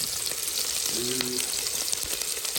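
Onions frying in a pan, a dense continuous sizzle with a faint brief tone partway through, close and steady, no voices.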